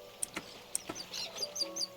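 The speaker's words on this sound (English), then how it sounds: "The chirping of the birds and the sound of the waves echo on forever" Birds in the Persona 4 Arena Ultimax video game chirp and tweet in short, bright calls. Several scattered chirps come close together over quiet background ambience, with no clear wave sound.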